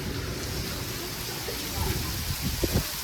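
Heavy rain falls in a village in Banaskantha, Gujarat, a dense steady hiss of downpour with a few low rumbling knocks near the end, recorded close by.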